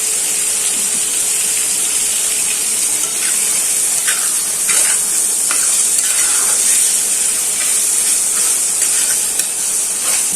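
Masala for a boiled egg curry fries and is stirred in a pan, a loud continuous sizzling hiss up close with soft scraping strokes from the stirring.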